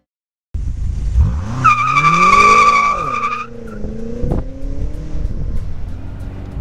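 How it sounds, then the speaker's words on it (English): A BMW M6 convertible launches into a burnout on launch control: a loud, close engine roar with rising revs and high tire squeal, then easing back to a steady drone with one sharp bang. "That perfectly managed burnout comes to you courtesy of the launch control system in the all-new BMW M6 convertible"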